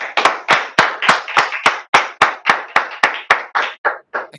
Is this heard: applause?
yes